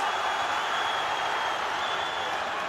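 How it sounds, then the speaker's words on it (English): A boxing arena crowd reacts to headshots at a British grudge match between Tony Bellew and Nathan Cleverly, a steady wash of cheering and applause, fairly faint and distant, with no clear peaks. "Crowd respond to those headshots."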